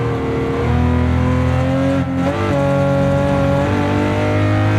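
A Walter Wolf Special Lamborghini Countach 500S engine roars loudly and close as it downshifts to second gear under braking. The revs drop, then a quick blip lifts them before the engine settles into a steady drone.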